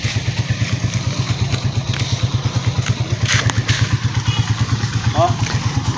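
A motorcycle runs steadily close by with a regular low engine throb throughout while a parent teaches a child to ride, with faint background voices and a brief clatter near the end.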